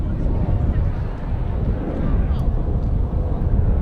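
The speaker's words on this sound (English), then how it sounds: "And another airplane flying overhead." An airplane passes overhead during an outdoor girls' high school soccer game, a continuous low rumbling drone that stays fairly loud and steady throughout.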